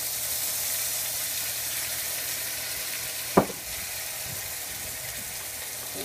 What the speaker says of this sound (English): Continue to stir until the meat is about a third of the way cooked.